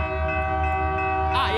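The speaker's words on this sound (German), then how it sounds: "Da kommt doch der Zug." A train approaching a level crossing, its steady tonal horn or whistle sounding throughout with a low rumble underneath, and a voice speaking briefly near the end.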